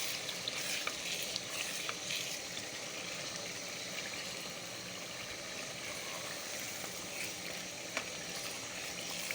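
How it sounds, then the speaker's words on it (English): Tomato stew with pepper is stirred in a pot, a dense, steady sizzle and bubbling with faint scattered clicks of the spoon, no voices. "I'll stir it together."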